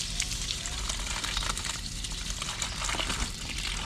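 Water from half a bucket gushes and splashes continuously onto backyard garden plants, a close, dense, steady pour with a sizzling trickle texture and no talking during it.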